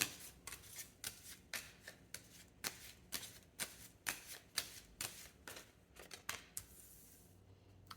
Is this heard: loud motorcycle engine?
no